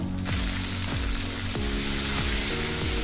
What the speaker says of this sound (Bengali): পেঁয়াজটা হালকা লাল হওয়া পর্যন্ত আমি একটু ভেজে নিব